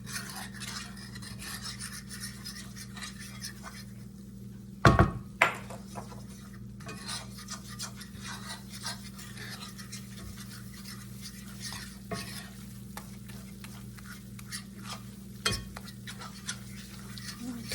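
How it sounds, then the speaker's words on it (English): Flour stirred into a pan with a utensil, a soft steady scraping and rubbing against the pan with an occasional sharp clink, under a low hum. "I'm going to put that 1/4 of a cup of flour in here"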